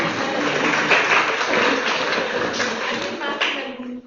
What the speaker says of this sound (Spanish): Bueno, sí, se puede aplaudir.